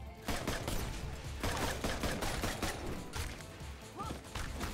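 Sniper gunfire in the co-op video game Full Metal Furies, a dense series of overlapping shots and impacts, fairly quiet and continuous throughout.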